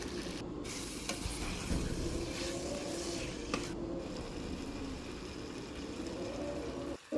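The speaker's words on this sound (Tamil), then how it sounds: "அது கூடவே பெருஞ்சீரக பொடி சேர்த்து அதையும் நல்லா கிளறி விட்டுக்கோங்க." Prawns fry with fennel powder in a pan while being stirred, giving a continuous sizzle with scraping strokes of the spoon, steady and close, with no voices.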